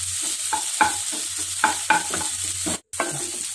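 Tomatoes frying in oil in a pan for a bitter gourd coconut milk curry, a constant close sizzle beneath repeated spoon scrapes and clinks, with a brief drop out near the end.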